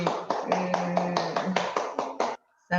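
A group claps in unison as a classroom teaching-simulation session closes: about a dozen crisp, evenly paced claps, then a short pause and one last clap.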